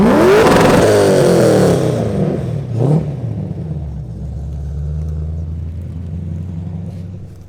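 A car engine at a car meet revs hard and loud for about two seconds with rising pitch, then drops back to a low, steady idling rumble.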